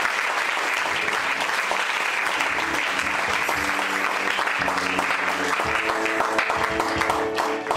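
A church congregation at a first-anniversary service applauds and acclaims Jesus Christ, with steady, dense clapping and cheering voices filling the room throughout.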